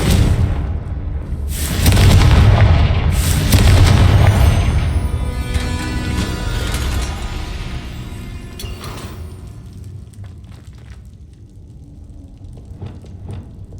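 A Confringo fire spell explodes in the Hogwarts Legacy video game, a deep booming blast with rumbling bursts that roll on for several seconds before fading into a quieter crackling tail, with no talking.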